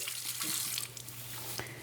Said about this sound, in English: one of the things I want you to do is just rinse it with clear water